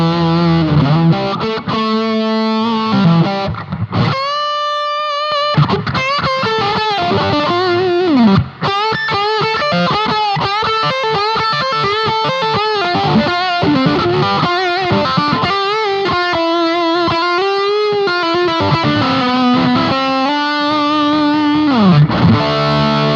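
Electric guitar lead through the drive of a Hotone Britwind Nano Legacy amp, playing fluid, sustained melodic lines with bends and fast runs, saturated and smooth, steady in volume and free of noise, with no talking.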